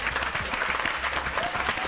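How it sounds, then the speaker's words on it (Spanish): Studio audience applause on a Spanish television show, a dense, steady wash of clapping filling the whole stretch without a break. "Un fuerte aplauso para Antonio Rossi."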